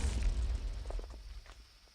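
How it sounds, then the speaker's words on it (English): A low, rumbling explosion boom in a Minecraft magic modpack, heaviest at the start and then fading with scattered pops and crackles, fairly faint and alone. "that was the explosion from my new stuff"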